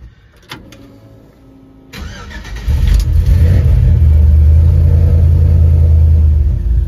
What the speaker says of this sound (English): Good sounding exhaust on it.